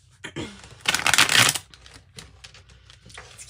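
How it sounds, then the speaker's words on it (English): Tarot cards are shuffled by hand in a quick riffling burst of crisp flutter and slaps, followed by softer card handling, close to the listener. "Let's get these a little shuffle."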